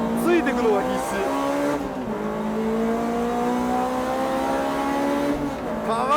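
Honda VTEC race cars battling on a dry circuit, engines howling high as they accelerate and shift, with tire squeal and an announcer talking over the steady loud engine noise.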